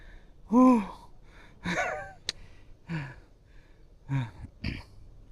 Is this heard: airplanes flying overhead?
no